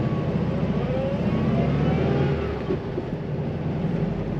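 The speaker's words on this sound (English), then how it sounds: "And it just purrs. This engine is happy to run, it seems." A 1960 Volkswagen Beetle Convertible engine hums steadily while driving, a smooth continuous drone with slight shifts in pitch as the car moves along.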